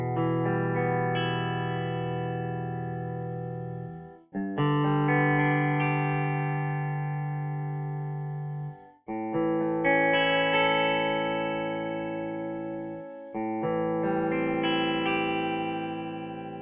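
Electric guitar run through the Arturia Tube Culture tube distortion plugin: four loud, sustained distorted chords, each ringing for about four seconds and slowly decaying before the next strike, with no talk.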